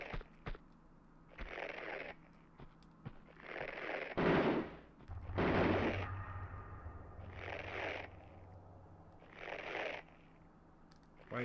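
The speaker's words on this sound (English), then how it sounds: "I got 22 shots left on the old auto pistols, and I'm gonna waste them on this guy." Auto pistol gunfire in the Tomb Raider II video game, several separate bursts of shots spaced a second or two apart, with one heavier, deeper blast in the middle, loud and without talk.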